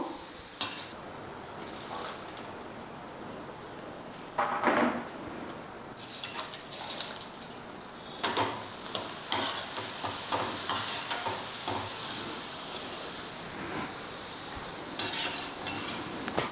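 Heart-shaped sago vadagam fry in oil, a soft background sizzle punctuated by scattered clinks and scrapes of a utensil against the pan, fairly quiet and close, without speech.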